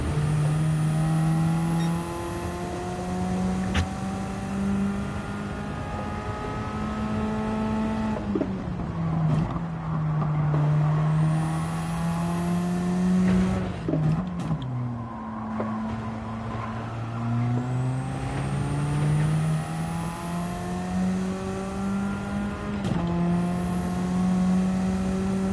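Race car engines in the Gran Turismo 7 video game drone continuously and loudly, pitch climbing and dropping through repeated gear shifts, with several cars layered together and occasional faint tire squeal.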